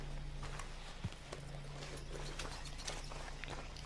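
Horse hooves clip-clopping in Red Dead Redemption 2, a faint irregular series of hoof steps over a low steady hum, with one sharper knock near the start and no talking.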